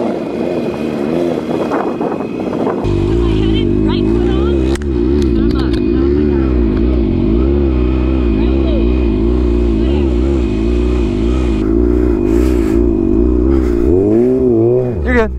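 Motorcycle engine held at steady high revs near 3,500 to 4,000 RPM while riding circles and tandems with a passenger, a loud continuous drone with shifting pitch waves, rising briefly at the end, with some talk early on.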